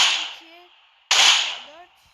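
Groza rifle rounds striking a car in a video game: two sharp, bright gunshot cracks about a second apart, each followed by a short decaying ring.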